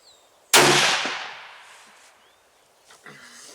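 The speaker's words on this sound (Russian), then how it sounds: "Сейчас я по стволу уже навелся, попробуем зацепиться за мишень, ну и пристреляться" A single rifle shot cracks loudly outdoors while a hunter zeroes the scope on a target, its report echoing and fading over a couple of seconds, then a faint knock follows.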